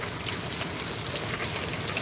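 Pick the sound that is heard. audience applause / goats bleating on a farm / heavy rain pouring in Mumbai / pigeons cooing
heavy rain pouring in Mumbai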